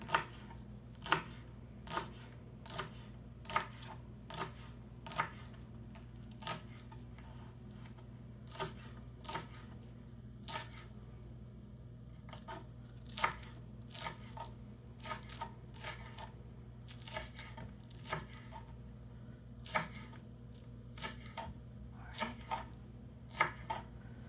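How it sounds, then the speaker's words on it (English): A knife chops spring onions on a cutting board in a home kitchen, a long run of sharp, close, irregular taps spaced under a second apart over a low steady hum, with no talking. "these are the spring onions from the food bank. This last week's food bank haul. And so I am going to cut them up"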